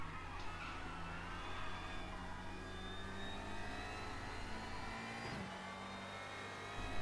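A front-wheel-drive race car in the RaceRoom racing game: a steady, fairly quiet engine note hums on, then shifts pitch briefly partway through as the throttle changes, with no talking.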